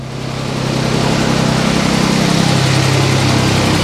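A 2020 Renault Clio, a salvage car repaired with Nissan parts, warming up at idle: a steady, close, loud engine drone that swells over the first second and then holds an even low hum.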